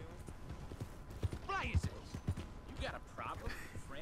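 Horse hooves clip-clop in Red Dead Redemption 2, a string of moderately close, irregular thuds set against game ambience and a voice.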